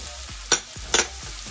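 Chopped leek tossed into a pan of frying garlic for a hake marinera dish sizzles steadily and close, with two brief louder bursts of stirring.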